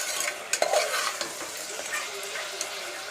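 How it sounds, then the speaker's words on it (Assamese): Onions fry and sizzle in a pan beside marinated mutton as a spoon stirs them, a close soft crackle broken by a few scraping clicks of the utensil against the pan. "পিঁয়াজখিনি দি অকণমান লৰাই দিম"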